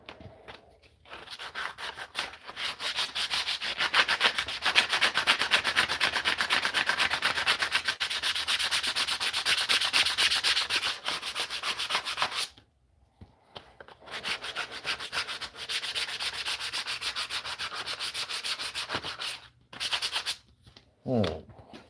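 Steady hand sanding with 80 grit sandpaper on a custom brush guard for a Volvo XC70, a continuous rubbing scrape that runs for long stretches and breaks off briefly near the middle and end.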